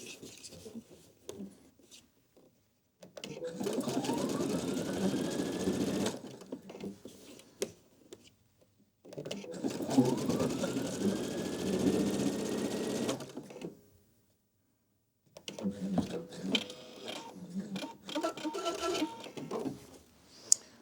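Domestic sewing machine stitching a three-step zigzag while mending a tear: three separate bursts of rapid, even mechanical whirring, each a few seconds long, with short quiet gaps and light handling noises between them.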